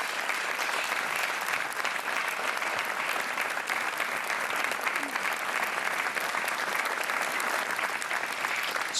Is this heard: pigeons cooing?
no